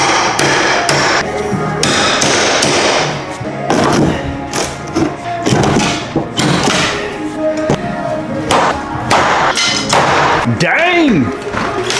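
Prying and hammering at old materials during demolition of an 1850 house, with repeated loud thumps, knocks, cracks and creaks close by, and a voice speaking intermittently among the impacts.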